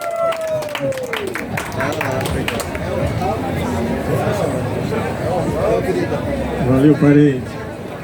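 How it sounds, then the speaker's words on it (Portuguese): Audience at an MST fair event in Brasília applauding a speaker, scattered clapping and cheering mixed with crowd chatter, with a voice speaking briefly over it. "um grande aplauso para ele"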